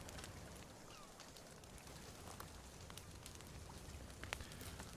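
Steady light rain patters in the survival game The Forest, a soft, even hiss with scattered faint drips and taps, quiet and continuous with no voices.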